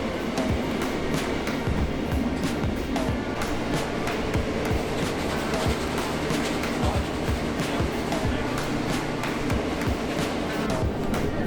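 A train made up of modern rolling stock rolls along with a steady rumble and regular clickety-clack of wheels over rail joints, heard from inside an observation carriage.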